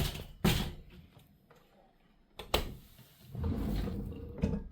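A drawer in a hotel kitchenette at a Disneyland Paris ranch-style hotel slides open and shut, giving a few distinct thumps and sliding rumbles with quiet gaps between them, close by.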